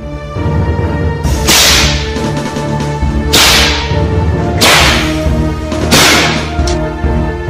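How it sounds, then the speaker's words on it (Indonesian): Four sharp, loud whip cracks ring out at roughly even intervals over a sustained background tone, each snap bursting bright and sudden. "cambuk Agung Sedayu pun telah meledak pula, hampir berbareng dengan cambuk Swandaru sendiri"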